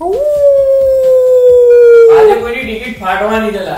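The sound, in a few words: dog howling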